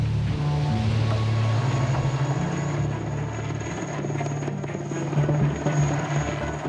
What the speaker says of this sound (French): Dans la jungle, le balai des hélicoptères est incessant